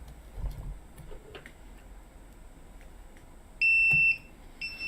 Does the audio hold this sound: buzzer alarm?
yes